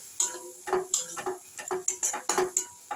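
A spoon scrapes and clinks rhythmically against a pan while poppy seed and sesame paste with a little water is sautéed and stirred, in quick, close, repeated strokes.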